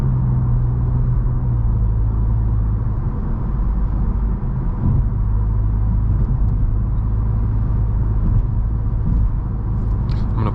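A Volkswagen MK8 GTI drives with its automatic transmission in drive, a steady low engine rumble and road hum filling the cabin continuously and fairly loudly, with no voices.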